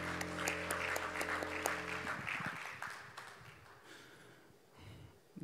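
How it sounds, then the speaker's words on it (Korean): A hymn played during a worship session at a pastors' conference ends, and soft, scattered congregation applause follows, quiet and thinning out toward the close. "우리 하나님께 감사와 영광의 박수를 올려드리겠습니다"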